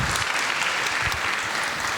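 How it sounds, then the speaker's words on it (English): Audience applause at a women's football cup opening ceremony in a glass hall in Bodø, dense continuous clapping from a crowd filling the whole moment. "let's give a big round of applause to each and every one of you today"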